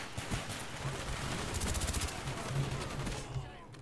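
Rapid gunfire rattles through a Black Ops 1 PC match, a steady burst of repeated shots at moderate loudness, with talk mixed in over the shooting.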